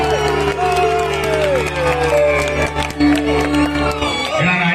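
A live debate-show audience in Tamil Nadu cheers and claps to welcome the film actor Manjunathan onstage, a dense, loud, steady wash of crowd noise with whoops and shouts over a droning stage hum.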